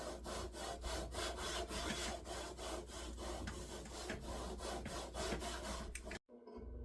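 A lapping bar rubs back and forth inside rifle scope rings, a steady rhythmic rasping scrape repeating about twice per second, close and continuous before cutting off abruptly.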